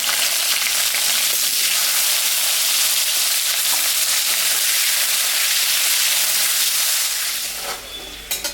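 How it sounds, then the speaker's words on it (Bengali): Potatoes fry in oil tempered with dried red chili, cumin and bay leaf, a loud, continuous sizzle that drops off abruptly near the end, followed by a few clanks. "আলুটা ভাজা হয়ে গেছে"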